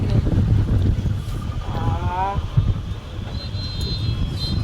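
Strong outdoor wind buffets the microphone in a loud, continuous low roar that surges and eases. A brief voice is faintly heard partway through.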